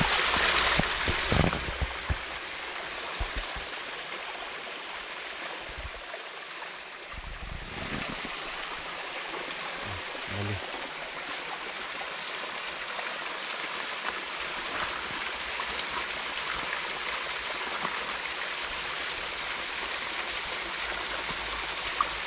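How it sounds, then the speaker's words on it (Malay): A mini waterfall spills into a pond deep in a forest, a soft, continuous trickling rush heard from a short distance, steady and fairly quiet, with a few faint knocks early on and no talking. "Ada mini air terjun."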